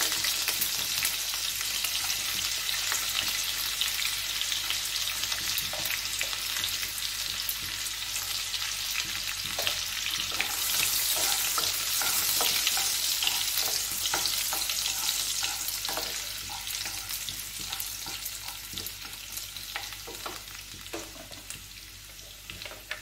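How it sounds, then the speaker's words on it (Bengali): Chopped garlic frying in hot oil gives a steady, close, bright sizzle for the whole stretch, with scraping stir sounds and small pops throughout and no voices. "ওই তেলেই বন্ধুরা আমি রসুনগুলো আগে দিয়ে দিচ্ছি, রসুন কুচিটা।"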